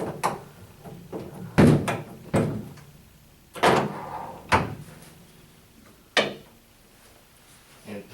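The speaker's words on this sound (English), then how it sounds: "We can easily close the door." A bath door on a freestanding bathing system is shut with a few soft thuds and knocks, moderately close, among quieter handling clatter.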